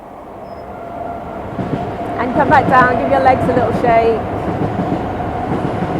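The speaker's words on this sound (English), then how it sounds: "I'm at the back end of the garden, so the trains are a little bit noisier" A train rumbles past behind a garden in steady, rising clatter that swells through the middle, partly under a woman's spoken workout instructions.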